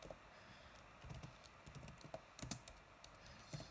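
Typing on a phone keyboard comes through as soft, faint, irregular taps in short clusters, with a low background hum and no talking.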